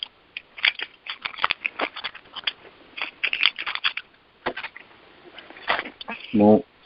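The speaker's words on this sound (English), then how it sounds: "Someone moving your keyboard?" A computer keyboard is shifted and knocked about nearby, making a run of rapid clattering clicks and rattles that ends in a louder clunk.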